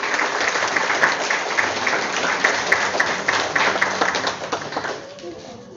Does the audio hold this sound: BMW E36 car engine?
no